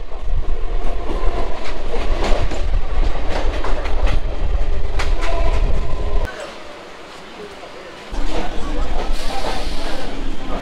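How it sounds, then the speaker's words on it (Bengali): A passenger train pulls into Lakshmikantapur station, its wheels rumbling with a steady clickety-clack that briefly quiets midway before the rolling noise resumes loudly until the end. "আমাদের ট্রেন এসে পৌঁছে গেল লক্ষ্মীকান্তপুর স্টেশন।"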